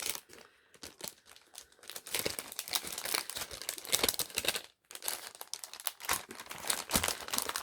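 Plastic packaging from a Noz haul crinkles and rustles up close as someone struggles to open it, with a steady run of crackling handling and a brief pause partway through.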